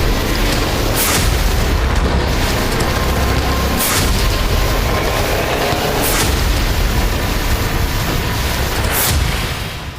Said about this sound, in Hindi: गोलाबारी हो रही है